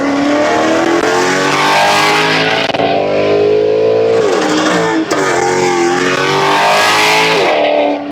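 Mercedes GLE with a turbo V6 M276 engine revving hard through its exhaust, a loud, close, sustained engine roar whose pitch climbs and falls twice over several seconds, heard alone.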